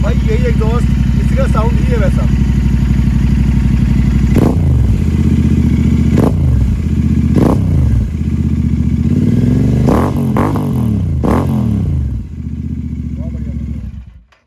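A Royal Enfield 650 twin, Continental GT 650 or Interceptor, fitted with an aftermarket exhaust idles loudly, then is blipped in a series of sharp revs at a few seconds' spacing before the engine cuts off.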